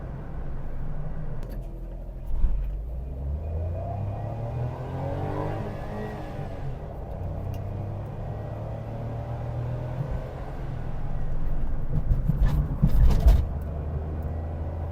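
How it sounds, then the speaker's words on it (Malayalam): Engine of a Maruti Celerio AGS car held at higher RPM under throttle, a steady low droning hum inside the cabin with slowly shifting pitch and a brief rougher surge near the end, with no talk. "എന്നിട്ട് ഞാനൊന്ന് ത്രോട്ടിൽ കൊടുത്ത് കുറച്ച് RPM കയറ്റി ഓടിക്കുകയാണ്."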